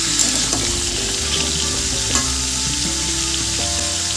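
Papaya and potato being stirred in a hot frying pan with spices, a loud, close, constant sizzle and crackle with scraping stir strokes, no talking.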